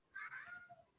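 A single cat meows in a short, fairly loud drawn-out call near the listener, with faint background room noise.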